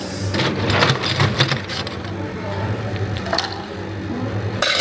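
Ice scooped from a dispenser bin into a drinking glass at a restaurant in Japan, a busy rattling clatter of cubes against the scoop and glass over steady room noise.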